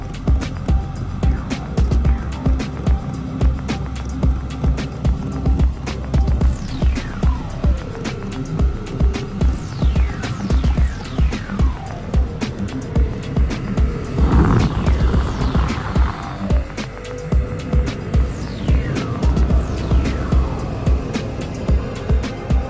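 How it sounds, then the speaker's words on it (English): A battery-powered, self-contained portable diesel heater runs with a steady low hum and a continuous airy roar, with scattered clicks and faint sweeping noises over it. "Battery powered diesel heater now, or a portable diesel heater."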